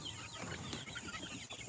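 Farm chickens, a flock of home-hatched birds, cluck softly at close range amid a steady background hiss, short overlapping clucks scattered through the moment.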